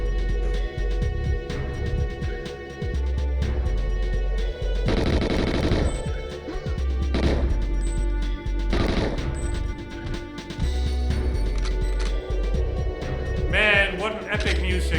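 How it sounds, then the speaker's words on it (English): Gunfire in GoldenEye XBLA, scattered shots and bursts ringing out beneath continuous game music, with someone talking over much of it. "Right, again, somebody is shooting."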